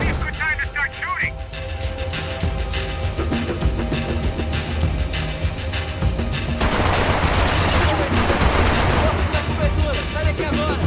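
Gunfire from the video game Max Payne 3 comes in dense bursts of shots mixed with game music and effects, turning louder and busier partway through. Voices speak over it.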